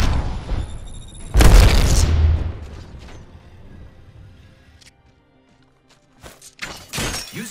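A grenade goes off in a sci-fi shooter video game: one heavy, close boom whose rumble fades over a couple of seconds, followed by quieter clicks and mechanical effects.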